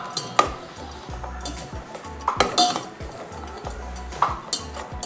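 A metal pot is handled and set into a cooker while making shahi tukda, with repeated clanks, scrapes and clinks of metal on metal at irregular intervals, loud and close, with no talking.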